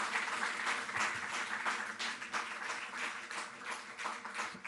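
Applause fills a hall for sports award recipients, among them a karate player, at a Delhi government ceremony. A large crowd claps steadily and evenly for the whole stretch, heard from a distance at low level.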